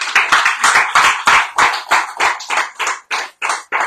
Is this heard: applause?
yes